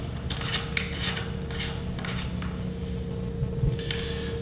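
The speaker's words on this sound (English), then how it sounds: "firstly insert a teat into the hole, securing it with the screwed back plate retainer" Plastic scraping and rasping as a screwed back plate retainer is turned onto a lamb feeder teat on a Volac Ewe2 feeder, a series of short close grinding twists over a faint steady hum.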